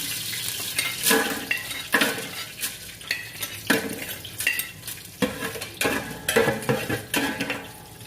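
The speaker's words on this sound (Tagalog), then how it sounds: "Isangag muna natin yung ating ingredients. Mayroon tayo na clove, cardamom at cinnamon." Clove, cardamom and cinnamon sizzle in hot cooking oil while a metal utensil scrapes and stirs the pan in repeated close strokes over a steady frying hiss.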